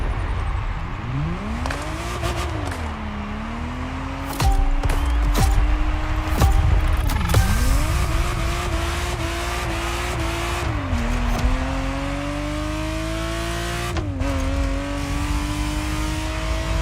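A Ferrari Testarossa's flat-12 engine roars in the racing game The Crew Motorfest, loud and close as it repeatedly revs up through the gears, with shifts and tire squeals, and no talk.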